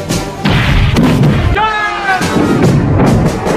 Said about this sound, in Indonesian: bom barel dijatuhkan tepat di lubang tersebut